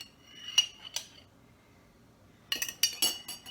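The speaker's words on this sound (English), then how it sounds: "we're just gonna stir them around" A spoon stirring cherries through melted chocolate in a bowl, a few quiet clinks against the side, then a short run of scraping taps after a pause, close and faint with no talk.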